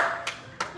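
Two sharp hand claps ring out a short distance away in a church camp room, spaced about a third of a second apart over a faint background hum.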